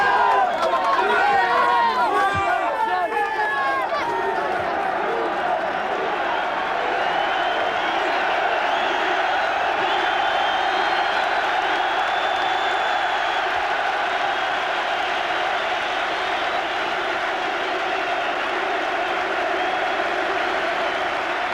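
A sellout crowd of 37,000 at a Newcastle United Football League match, the final game of footballer Kevin Keegan, fills the stadium with a steady, loud roar of cheering and applause that holds for the whole stretch, with voices mixed in.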